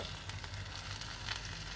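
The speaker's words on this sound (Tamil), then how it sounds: "கடுகு நல்லா பொரிஞ்சதுக்கப்புறம் கொஞ்சம் வெங்காயம் தாளிக்கிறதுக்காக" Steady sizzling of onions frying in hot oil after mustard seeds, a continuous crackling hiss with no talking.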